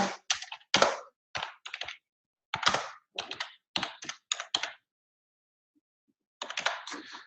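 Typing on a computer keyboard in short rapid bursts of crisp clicks, separated by brief pauses and a longer silence before a final burst. The typing is close and clear, with no talking.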